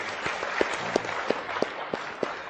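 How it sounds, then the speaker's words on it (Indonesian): Audience at a cultural talk in Yogyakarta applauding a welcomed guest, a continuous wash of clapping with a few louder, sharper claps standing out near the front in a regular beat. "tepuk tangan untuk beliau."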